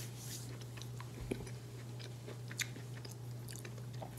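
Quiet, close crunching bites of breaded vegan fried green beans with a few crisp snaps, chewing scattered over a low steady hum.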